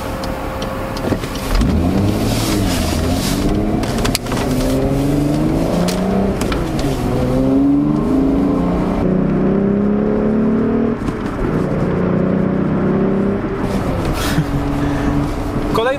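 Volkswagen Corrado VR6, a small front-wheel-drive car with a heavy front engine, revving and accelerating through the gears, loud and close with rising and falling engine pitch throughout and faint talk beneath.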